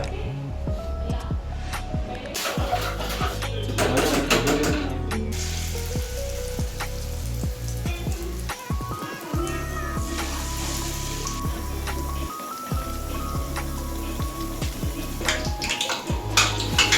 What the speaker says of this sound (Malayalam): ഇടക്കിടക്ക് അത് കോരുമ്പോ കോരുമ്പോ ചെറുതായിട്ട് പൊട്ടിത്തെറിക്കുന്നുണ്ട്